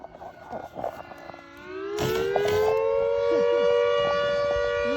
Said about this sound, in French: soudain une sirène retentit